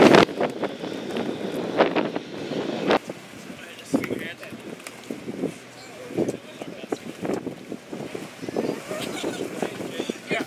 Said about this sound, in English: it's so windy that all the balls are flying overboard